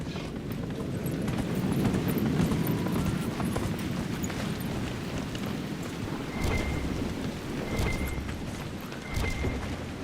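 Horse hooves clip-clop in Dragon Age, a steady patter under a dense, rumbling ambience like rain and thunder, with no speech.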